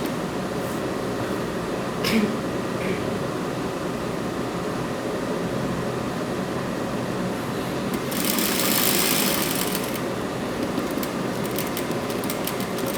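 A sewing machine stitches the seam of a child's printed dress, running as a steady, close mechanical whir throughout, with a brief louder, brighter stretch near the end.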